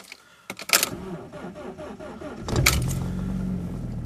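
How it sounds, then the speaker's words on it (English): A car engine starts in snow: a few clicks and key jangles, then the starter cranks briefly and the engine catches, settling into a steady close idle rumble. "Let's see if the engine starts."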